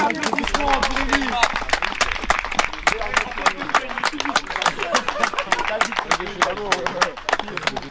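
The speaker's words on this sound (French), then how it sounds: "tonnerre d'applaudissements pour Amy!" Audience clapping hard for a player after a wild indoor football semifinal, a dense burst of rhythmic applause with cheers and voices mixed in, close and loud throughout.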